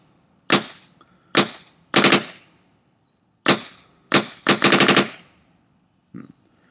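A DM paintball marker fires several sharp, loud shots close by, single pops and quick double and rapid strings, each with a metallic clack of the bolt cycling after a regulator adjustment, separated by short silences.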